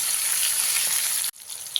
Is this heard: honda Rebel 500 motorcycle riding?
no